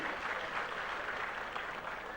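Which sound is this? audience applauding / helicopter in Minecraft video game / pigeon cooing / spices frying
audience applauding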